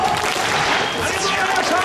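Stadium crowd at a 2022 Japan Series baseball victory celebration claps together, a dense, continuous roar of hands and crowd noise with a voice faintly over it.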